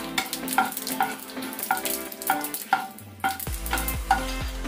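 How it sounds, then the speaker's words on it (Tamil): Mustard seeds spluttering in hot oil with onion and garlic in the pan, sharp popping bursts at a steady rhythm, close and fairly loud, with a louder sizzle swelling near the end. "கடுகு நல்லா பொரியுதுங்க"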